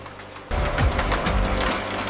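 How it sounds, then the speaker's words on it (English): A sardine can lid sealing machine in a canning factory starts up with a sudden mechanical whir and runs on in a steady, loud, rapid clatter. "Vacuum sealing locks in freshness while protecting every can."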